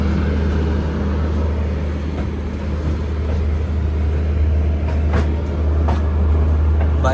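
Steady rumble of the Duronto Express, train 12286 from Hazrat Nizamuddin to Secunderabad, under way with a continuous loud low drone and rolling rattle, a few faint clicks and squeaks over the top.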